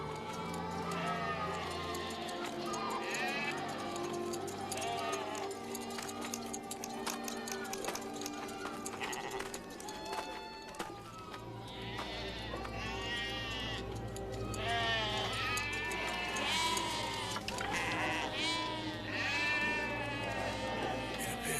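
Sheep penned for shearing bleat repeatedly at close range, wavering cries rising over a steady low rumble, with people talking throughout.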